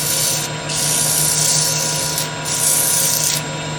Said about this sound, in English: I'll have to do more sanding when I get that base reduced a little bit more